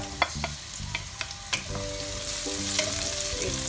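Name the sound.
chopped white onion frying in pan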